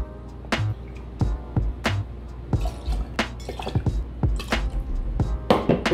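Orange or pineapple juice poured over vodka into a cocktail glass, heard as close, irregular wet drips and splashes with small knocks, loud and without speech.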